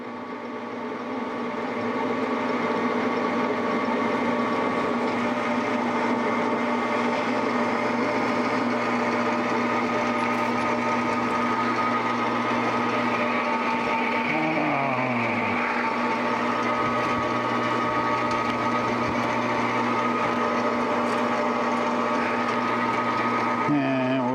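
A metal lathe turns an anvil extension at 420 RPM, a steady tonal machine hum and whine with a brief pitch sweep midway, sustained and close.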